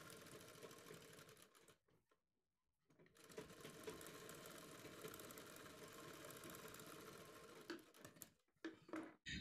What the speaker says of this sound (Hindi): अब आपको एक सिलाई अपने पूरे गले पे लगानी है बुकरम के बराबर में।